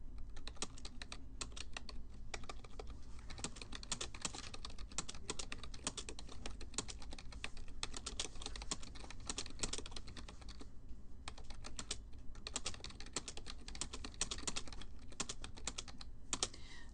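A letter is typed on a computer keyboard in dense, continuous key clicks at a fast, steady rhythm, close up and alone, with a brief lull near the end.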